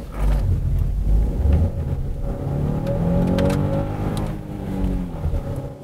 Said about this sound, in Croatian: sad ćemo malo ubrzavati da vidite i možda čak i čujete kako to izgleda